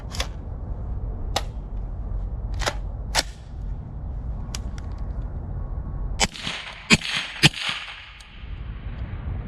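A 7.62x39 AR rifle is test-fired outdoors with several sharp, separate shots at irregular intervals, and a quicker cluster of reports comes near the end.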